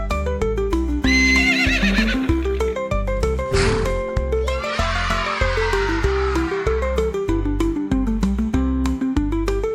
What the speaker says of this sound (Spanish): ¿Cómo le hace el caballo?